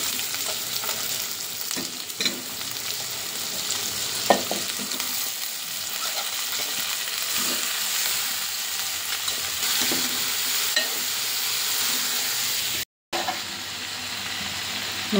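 Onion and cauliflower sauteing in oil after ginger-garlic paste, a continuous close sizzle with intermittent stirring scrapes and clicks, no talking.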